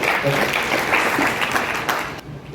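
Audience applause at an inauguration event fills most of the clip, a dense wash of clapping that stops abruptly near the end.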